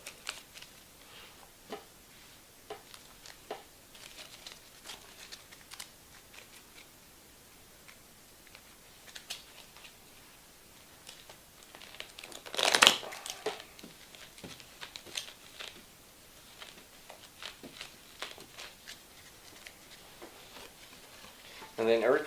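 Thirty cards from the AEG board game Custom Heroes are shuffled, giving a short crisp riffling burst midway through a quiet stretch, with soft ticks and light handling noises around it.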